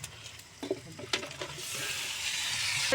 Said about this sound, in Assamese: মাংস এইপিনে উতলি আছে